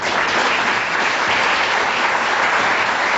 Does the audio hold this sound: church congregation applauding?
yes